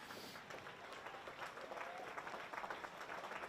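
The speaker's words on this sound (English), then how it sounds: "How about a big round of applause?" A crowd at a New Year's Eve carnival applauds after a mile race, with a steady, distant clapping that swells slightly toward the end and faint crowd noise beneath it.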